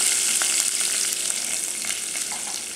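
Curry leaves and hing (asafoetida) sizzle steadily in hot oil for Indian cooking, a dense, close crackling hiss with scattered sharper pops throughout and no talking.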